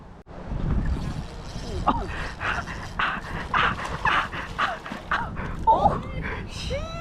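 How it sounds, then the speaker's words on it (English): A dog barks and whimpers with yips and whines, fairly close, over a background of outdoor noise while people talk. "that dog"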